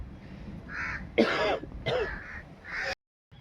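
A person coughs and clears their throat in a few harsh, close bursts among friends, a short rasping sequence that ends abruptly in silence.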